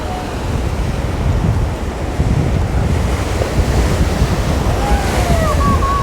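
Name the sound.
choppy sea waves crashing against the sea wall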